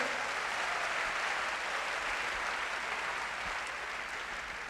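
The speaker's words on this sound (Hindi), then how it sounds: "एक बार जोरदार तालियां दादा के लिए होनी चाहिए" Audience applause for an honoured guest at a Hindi-language event, a dense, steady wash of many hands clapping that holds at full strength throughout and eases only slightly toward the end.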